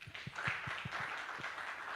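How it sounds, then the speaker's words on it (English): A small audience gives faint, distant applause with a few distinct claps over a soft wash of clapping. "Please, a round of applause."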